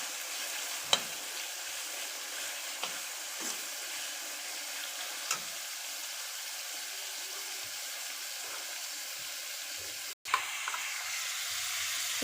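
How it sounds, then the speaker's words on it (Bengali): Mutton liver and fat frying in hot oil, a steady close sizzle with soft scraping stirs and occasional light clinks of a spoon against the pan, no voices. "এটাকে কিছুক্ষণ নেড়ে নেব তেলের মধ্যে।"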